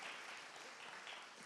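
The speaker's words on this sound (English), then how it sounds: "Give her a round of applause" Audience applause at a Sunday church service, a steady wash of clapping held at an even level throughout the short stretch, fairly faint, with no voices over it.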